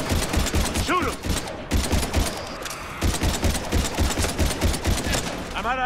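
Rapid automatic gunfire in the video game Mass Effect 3, dense bursts of close, loud shots rattling almost continuously, with a brief pause and a voice speaking partway through.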